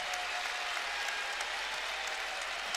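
Basketball fans in Rupp Arena in Lexington clap during a Kentucky versus North Florida game, a soft, distant spread of applause with a low steady hum underneath and no voices over it.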